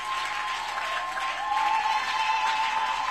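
A church congregation applauding during a morning service, sustained dense clapping that swells slightly halfway through, with a faint tone ringing underneath.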